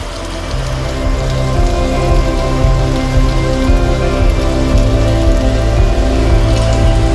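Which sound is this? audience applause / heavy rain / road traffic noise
heavy rain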